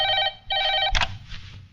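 A telephone rings loud and close in two long electronic bursts, followed by a sharp clack of the handset being picked up, with no one speaking.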